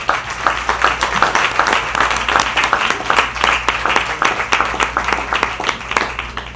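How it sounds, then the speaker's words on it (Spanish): A church congregation claps during a sermon, rhythmic hand clapping in even beats from a crowd over a low steady hum, sustained throughout. "Denle un aplauso al Señor."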